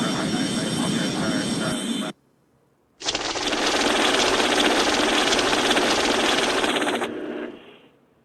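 Airbus A330 landing at Dallas in the Airline Commander mobile game, a loud steady synthetic engine roar that cuts out briefly, resumes, then fades at the end.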